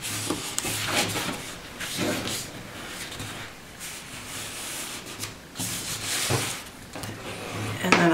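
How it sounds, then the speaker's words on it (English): Paper and chipboard being folded and creased by hand, soft repeated rubbing and scraping strokes at close range in an uneven rhythm. "I take the longest edge and fold it up."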